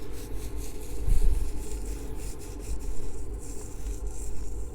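Coarse ground coffee from a Turin DF64 grinder rolled between fingertips, a soft continuous gritty rubbing with a brief louder burst near the start, close and low against steady background hum.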